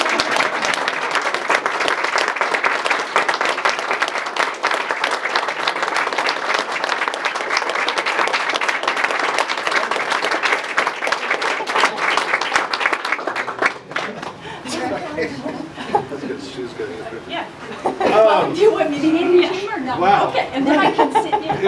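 Audience applause at a graduation ceremony as an award winner is congratulated, steady dense clapping for about fourteen seconds, then fading into scattered claps and chatter before a voice speaks.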